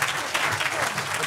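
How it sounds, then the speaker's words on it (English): A panel discussion audience bursts into dense, continuous applause, loud and close, many hands clapping together without a break. "So I want to give them a big round of applause"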